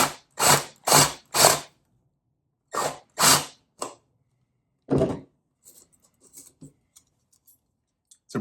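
A step drill bit cuts through PVC in short bursts of harsh, scraping grinding. Several close, loud bursts come in quick succession, then quieter scattered scratches and clicks follow.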